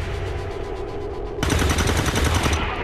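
Gunfire in the XCOM 2 video game: a steady backing rumble, then from about halfway a dense burst of rapid, loud automatic shots rattling on to the end.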